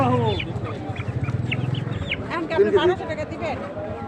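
Tiger chicken chicks cluck and chatter repeatedly at a market, close by, while a person speaks over them.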